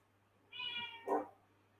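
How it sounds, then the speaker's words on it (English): A house cat, just awake, gives two meows close by, first a drawn-out tonal cry and then a shorter, louder one, against a quiet room with a faint steady hum. "Now the cat is just woken up."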